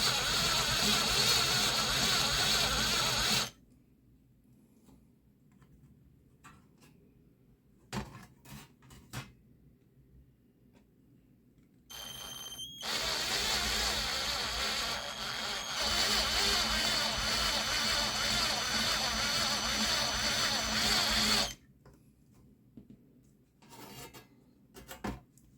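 A drill bores holes in pure titanium sheet for a DIY wood stove, in two long, steady, harsh grinding runs separated by quieter stretches with scattered clicks and handling knocks.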